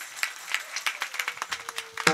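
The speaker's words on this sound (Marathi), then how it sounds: "पुन्हा टाळ्या होत्या जोरदार अतिशय" Light, sparse applause from a kirtan audience in Hirapur: a couple of seconds of individual claps coming at an uneven rhythm, fairly faint and thin, with a brief louder burst at the end.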